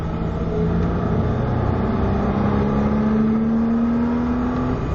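A car engine revs and accelerates steadily, its pitch climbing over a few seconds, loud and close with constant road noise.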